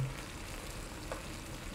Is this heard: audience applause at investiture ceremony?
no